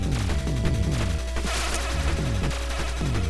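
Enemy fire in the 1983 Konami arcade game Gyruss, rapid repeating electronic shot bursts in a driving rhythm over a steady tone and music, loud and continuous with no talking.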